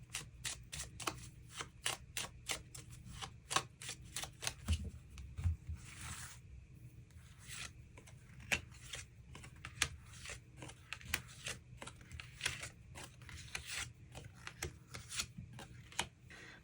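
Tarot cards being shuffled and drawn on a table, a long run of crisp close riffling and flicking bursts in a quick, uneven rhythm, quiet and without any talk.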